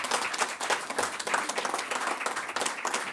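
An audience at a civic ceremony for a cycling race in the Bregonze hills applauds, a dense, continuous patter of many hands clapping at close range with no pauses.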